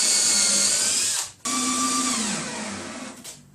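A power drill drives screws into the counter of a wooden fireplace surround, whining loud and close, pausing briefly, then spinning up again and winding down.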